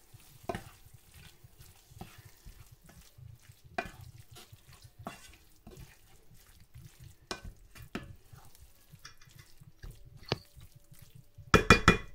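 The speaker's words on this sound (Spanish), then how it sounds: "cuando ya está casi hecho el sofrito es cuando le añado la berenjena" Eggplant is stirred into a nearly finished sofrito in a pot, with a quiet sizzle beneath repeated scraping strokes of a utensil and a few sharper clinks against the pot, ending in a louder clatter.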